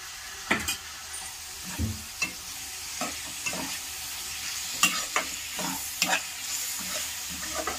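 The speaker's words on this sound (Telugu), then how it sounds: "2 మినిట్స్ అలా ఫ్రై చేసుకోవాలి." Curry with curd sizzling in a pan, a constant soft frying hiss under repeated scrapes and clinks from a spoon stirring it, close and moderately loud.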